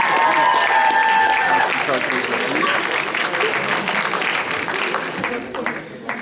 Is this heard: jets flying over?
no